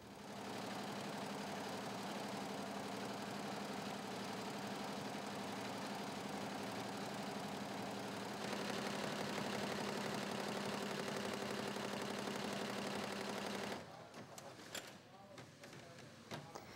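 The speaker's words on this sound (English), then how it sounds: "This 20-head embroidery machine sews logos onto pieces of BCD material." A 20-head embroidery machine sewing logos onto pieces of fabric gives a loud, continuous mechanical drone with a dense rapid stitching rhythm that shifts pitch partway through, then stops, leaving scattered clicks and clatter.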